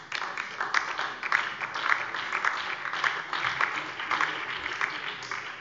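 Sustained applause fills a parliament plenary chamber, many hands clapping steadily for several seconds at moderate loudness, with a dense, even texture.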